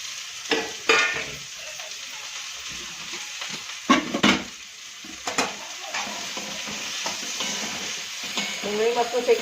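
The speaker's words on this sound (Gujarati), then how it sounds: "ડુંગળી મસ્ત શેકાઈ જાય પછી મસાલો શેકી કાઢું" Onion frying in oil in a kadai for a Gujarati dahi gavar dish, with a spoon repeatedly scraping and stirring in irregular strokes over a steady close sizzle.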